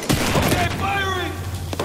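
A burst of gunfire and a heavy boom in a Battlefield 4 campaign battle in Shanghai, loud and close, with a spoken voice over the shooting.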